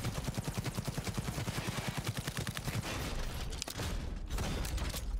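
A smart gun firing in Cyberpunk 2077, rapid bursts of close, sharp shots in a fast repeating rhythm that fades into scattered mechanical clatter near the end.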